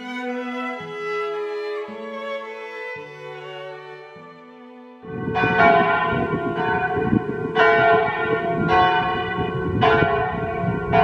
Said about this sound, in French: Fascination pour les cloches